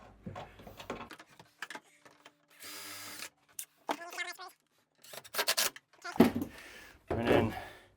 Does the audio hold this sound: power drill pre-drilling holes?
yes